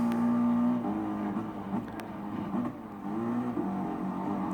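A race car engine in Gran Turismo Sport at the Nürburgring 24 Hour circuit whines and revs at moderate volume, holding a steady pitch with slight rises and dips as it runs alone.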